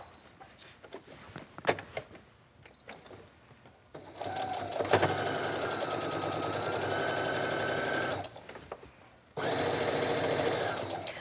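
A sewing machine runs close up, top stitching along a shirt sleeve in two long steady bursts of rapid needle chatter, broken by a short pause, after quieter handling of the fabric.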